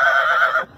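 A Nukra horse of the Punjab breed gives a short, loud neigh at close range. The single tonal whinny holds steady, then cuts off abruptly, with no voices over it.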